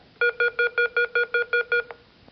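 A quiz show end-of-quarter tone from the Texaco Star Academic Challenge, 1994-95: a rapid string of about ten identical electronic beeps, evenly spaced, clean and alone.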